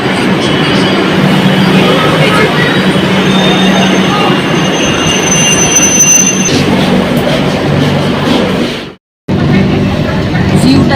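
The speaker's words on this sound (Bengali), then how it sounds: "মেট্রো চলেও এসছে।" A metro train rolls into a platform with a loud, sustained rumble and high squealing wheels. The noise eases and drops out briefly near the end, and faint voices can be heard beneath it.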